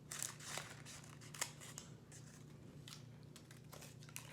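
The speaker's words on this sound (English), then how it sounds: "I'm going to fold the cupcake liner in half, and then I'm going to cut it" Scissors snip through a folded paper cupcake liner during a kids' craft, giving quiet, crisp cuts and a few sharper clicks over a soft, steady room hum.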